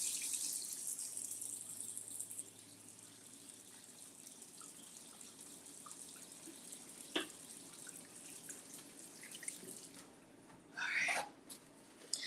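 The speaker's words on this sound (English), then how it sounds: "wash hands." A kitchen water tap runs while hands are washed after handling beef bacon. It makes a steady, fairly quiet rush that is strongest at the start and then softens, with a few small clinks and a short louder burst of splashing near the end.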